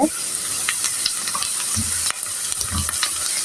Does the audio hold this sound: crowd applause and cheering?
no